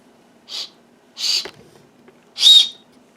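Three short, shrill blasts from the small whistle on a multi-tool emergency gadget that also carries a window striker, the last blast the loudest, with quiet pauses between them.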